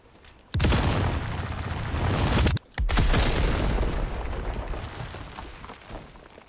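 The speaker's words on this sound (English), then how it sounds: "This is a bigger explosion, so I'm gonna throw it much further." A heavy M26 grenade blast from the Resident Evil 4 Remake game: a loud, booming explosion bursts in for about two seconds, a brief gap follows, then a second roaring blast that rumbles and slowly fades.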